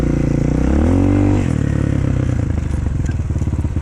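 A Shineray VXR 300 motorcycle engine drones loud and close while riding, its pitch climbing and then dropping as the revs change, followed by a throbbing, pulsing idle-like rumble.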